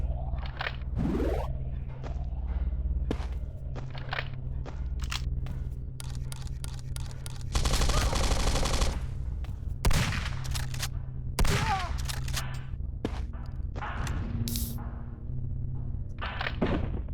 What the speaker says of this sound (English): Those machine guns I got are a bit of a bitch.